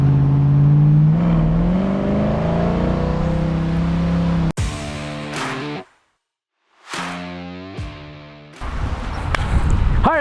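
A 1969 Camaro with an automatic transmission pulls away in first gear, its engine revving up loud and near, then cutting out sharply, going quiet for a moment and revving again in short bursts.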